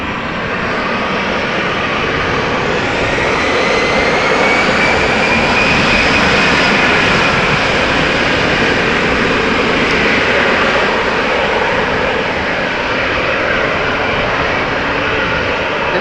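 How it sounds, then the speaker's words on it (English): A KLM Boeing 777-300 jet on its takeoff run at Amsterdam Schiphol Airport, a loud, broad, sustained engine roar that holds steady throughout with no talking. "And there is a 777 indeed getting started. 777-300 KLM flight 611 to Chicago."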